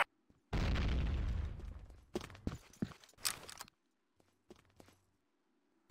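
A bomb blast in an online shooter game: one loud, deep boom that rolls off over a second or two, followed by scattered thumps and footstep-like impacts before things go quiet.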